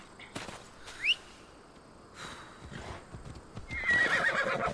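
Horse in Assassin's Creed Odyssey gives a sharp whinny near the start, then a longer, louder neigh toward the end, with light hoof clip-clop and game ambience between, no talking.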